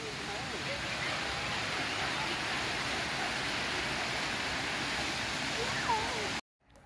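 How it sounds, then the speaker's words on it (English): The waterfall of the Grand Cascade in Alnwick Garden, a formal garden: a steady, even rush of falling water heard at moderate distance, constant throughout before cutting off abruptly near the end. "around here is the start of the Grand Cascade, where the waterfall is found"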